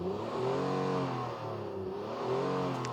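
A 2024 Honda Ridgeline Trailsport pickup engine revs up and settles, its rising and falling tone rumbling steadily for a few seconds with no talking.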